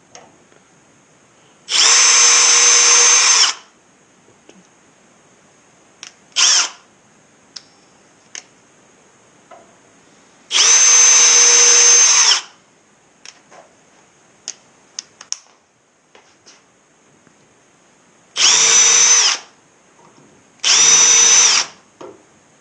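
A router bit cuts hinge recesses into a wooden door in four loud, whining bursts of a second or two each, separated by quiet gaps with small clicks and taps.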